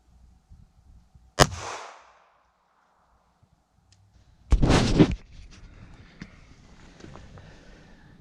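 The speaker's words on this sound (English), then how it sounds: "we'll throw denim over them and shoot them a few times" Two sharp .380 ACP shots from a Sig P238 pistol fired into a ballistic gel block, each a loud close crack with a short decaying tail, a few seconds apart, followed by faint handling noise.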